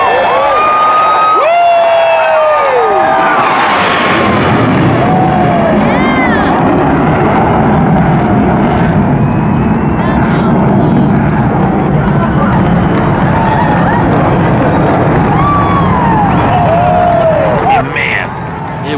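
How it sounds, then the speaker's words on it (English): A low flyover by aircraft above a packed football stadium at the Air Force Academy, a loud sustained roar over a cheering crowd that holds steady for the whole stretch, with voices shouting through it. "Flyovers are when airplanes and aircraft make a low pass over a packed football stadium."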